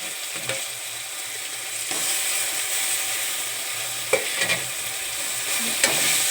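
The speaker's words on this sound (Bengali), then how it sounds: "আদা বাটা, পেঁয়াজ বাটা, জিরে গুঁড়ো, লঙ্কার গুঁড়ো, এইগুলো দিয়ে আমি ভালো করে কষিয়ে নেব।" Ginger paste, onion paste, cumin and chilli powder sizzle steadily in hot oil while being stirred, with a few sharp scraping knocks of the spoon against the pan; no voices.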